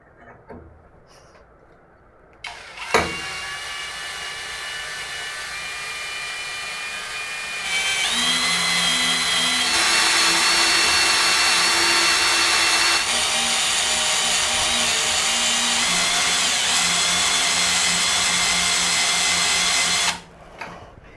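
A compact impact drill with a metal chuck bores into metal, one long, loud, high-pitched motor whine that steps up in intensity partway through and holds steady before cutting off.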